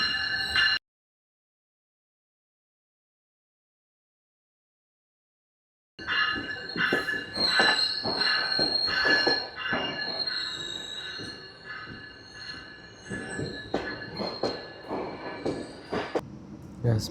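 A GO Train rolls into a platform in Canada with screeching, squealing wheels and clanking carriages after a stretch of total silence, loud and close, fading slightly toward the end.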